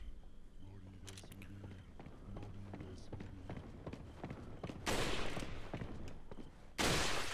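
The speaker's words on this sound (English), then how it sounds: "the footsteps in this game are aggressively loud" Enemy footsteps in the video game Resident Evil 4, a run of heavy, rhythmic thuds in quick succession, broken by two loud bursts of crashing noise near the end.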